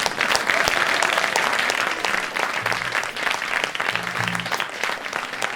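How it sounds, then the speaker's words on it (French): A concert audience applauds the performers of a chewing gum-themed show, loud dense clapping throughout with a few low vocal murmurs and a voice briefly heard beneath it. "Applaudissez-les"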